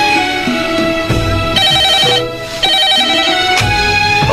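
A telephone rings while a call is being placed, giving a loud, repeating electronic ringtone melody with regular phrases and no voices over it.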